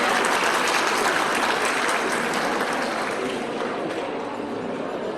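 A crowd claps steadily and continuously as guests are introduced at a procurement expo ceremony in Korea, a dense wash of applause that fades slightly toward the end.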